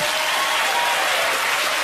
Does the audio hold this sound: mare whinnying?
no